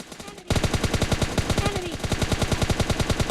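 An M4 rifle fires in sustained automatic bursts in the mobile battle royale game BGMI, a fast, evenly spaced rattle of loud close shots that starts abruptly after a brief quiet moment and keeps going.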